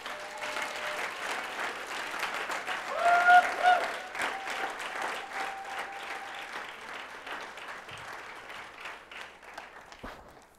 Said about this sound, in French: j'aimerais qu'on acclame le Seigneur pour sa victoire